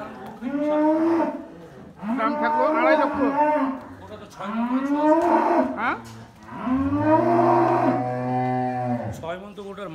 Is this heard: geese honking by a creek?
no